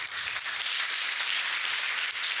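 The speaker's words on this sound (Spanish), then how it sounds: "Dale un aplauso al Señor." A church congregation applauding during a sermon, a continuous, even roar of many hands clapping that fills the whole moment with no voices over it.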